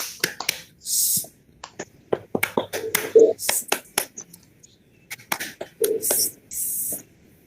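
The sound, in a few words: group hand-clapping routine 'tepuk angin'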